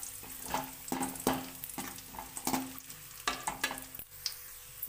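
Cashews and raisins fry in oil, a soft sizzle broken by repeated stirring scrapes and clinks at a steady rhythm, fairly quiet and close.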